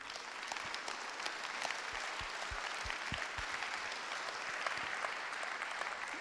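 Applause from the room at a municipal council meeting installing a new mayor and deputies: many hands clapping in a fairly soft, continuous patter, heard from some distance and lasting throughout.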